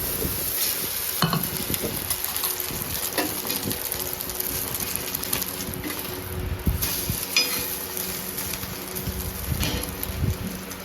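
Egg toast cooking on a gas stove: a steady soft sizzle throughout, with occasional scraping and stirring clatter near at hand.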